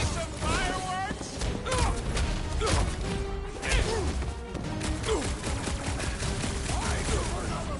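Explosions and gunfire erupt in the Guardians of the Galaxy video game, a dense, loud barrage of bangs, crashes and whooshes that runs throughout, mixed with voices and game music.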